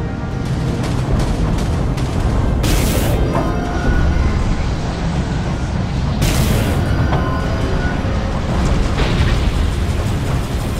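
Explosions from enemy missiles striking a ship in the space combat game Dreadnought, a continuous loud rumbling barrage with sharper bursts breaking through around three and six seconds, and no talking.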